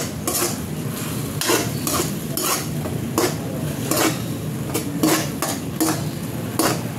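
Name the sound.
tuna cooking and being stirred in a pan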